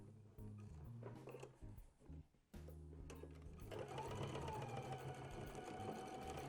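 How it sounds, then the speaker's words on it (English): A sewing machine stitches across a ribbon along a drawn line, its motor whirring steadily at close range after a brief pause, with no talking. "we're going to sew across the line that we've drawn"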